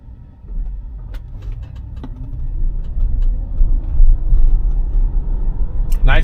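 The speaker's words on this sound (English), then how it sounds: "I like how it's actually accelerating like a regular person instead of like a grandma now." A Tesla on Full Self Driving pulls away from a turn, its road rumble and tyre noise building steadily and loudly over several seconds, with faint clicks scattered over the top.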